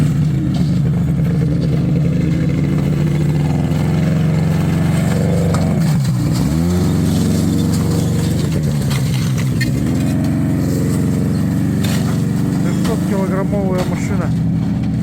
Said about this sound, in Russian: Вот едет снегоход. Буран.